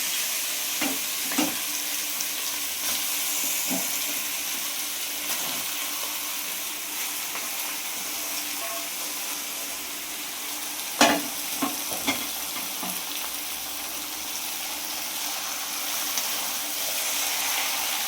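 Marinated country chicken sizzles and fries in hot oil in a wok, a steady close hiss with occasional sharper crackles and stirring clatters partway through, no voices.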